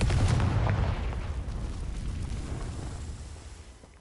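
A loud magical blast from the Confringo spell in the wizarding game Hogwarts Legacy erupts at once, then rumbles and decays steadily over several seconds into a fading fiery hiss, with nothing else over it.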